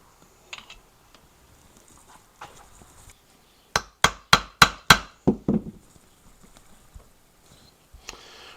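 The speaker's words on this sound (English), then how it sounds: "we're going to start by removing this impeller on here" Sharp metallic taps on the pump of a Kawasaki JS550 stand-up jet ski while removing its impeller: a quick burst of about six close, loud strikes in a row, with a few scattered softer knocks before and after.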